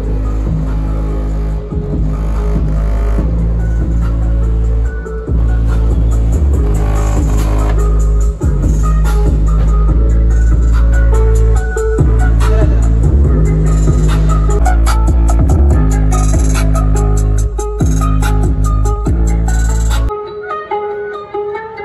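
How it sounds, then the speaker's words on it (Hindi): Music pumps from a modified Honda City Type 2 car stereo with all windows shut, a heavy, bass-thick song with steady beats, loud and continuous before cutting off near the end, no speech over it. "ठीक है, म्यूजिक स्टार्ट हुआ है अभी।"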